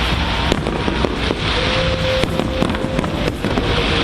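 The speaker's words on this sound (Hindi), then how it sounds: "इतनी जोरदार आतिशबाजी शुरू हुई कि ऐसा लगा जैसे दिवाली मनाई जा रही हो" Fireworks crackle and pop in dense rapid bursts during a large display celebrated like Diwali, with sharp bangs scattered over a continuous roar of crackling, loud and fairly close.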